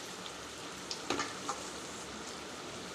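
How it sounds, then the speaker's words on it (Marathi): Potato and wheat vermicelli cutlets shallow-frying in a little oil give a steady, quiet sizzle with a few small pops and clicks near the middle. No one speaks. "पलटवून सर्व बाजूनी छान असं आपण हे तळून घेऊया"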